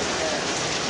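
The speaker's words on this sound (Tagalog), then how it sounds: "Umuulan eh." Rain falls in a steady, dense hiss of drops on surfaces, evenly loud across a brief moment with no clear voices.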